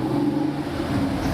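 A Porsche at a La Baule classic car rally start rumbles past nearby, a steady loud engine drone with no break through the short moment.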